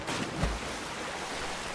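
A waterfall rushes in Zelda: Tears of the Kingdom, a broad continuous roar of water with a brief splash, steady and fairly loud with no voices.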